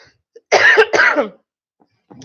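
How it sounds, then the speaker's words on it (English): Two harsh, close coughs in quick succession, then a brief quiet before another cough starts at the very end. "The whole show would have been me having a coughing fit."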